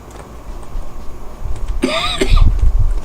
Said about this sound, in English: God, it's a freaking cough.